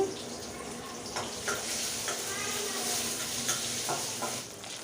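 Green chilies and coriander seeds fry in hot oil in a pan for a gourd chutney, giving a steady close sizzle with a few soft stirring scrapes and light clinks scattered through.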